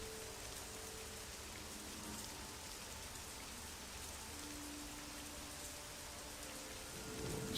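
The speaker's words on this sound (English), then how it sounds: "other time I've just been listening to the rain." Rain falling in a fantasy role-playing game parody, a faint, steady, even hiss of rainfall with no voices.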